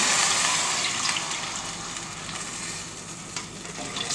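Vermicelli cooking in about half a litre of milk for caramel butterscotch semiya payasam, stirred in a pan, giving a loud continuous bubbling hiss with faint scraping strokes, close and steady.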